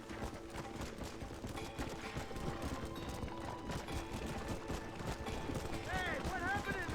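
Horses gallop in the Red Dead Redemption video game, a busy rumble of hoofbeats mixed with mechanical rattle and a dense game soundscape, a rider's shouts rising near the end.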